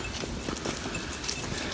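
Rapid hooves of sheep patter and thud over the ground, with a steady outdoor rustle behind them.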